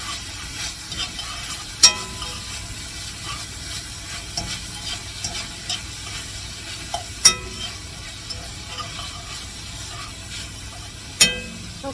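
Beef and garlic sizzle steadily in a pan while being stirred, a constant frying hiss broken by a few sharp clinks of the utensil against the pan.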